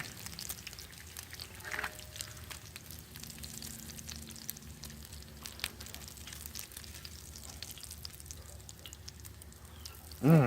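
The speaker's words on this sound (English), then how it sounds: "I love the smell of bacon frying." Bacon fries quietly in a pan, a soft, steady sizzle with scattered crackles and pops throughout, ending in a brief louder clatter.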